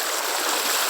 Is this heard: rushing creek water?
yes